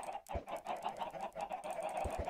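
Minecraft chickens on a chicken farm, giving a short run of repeated low clucks close by over a steady background, with no talk.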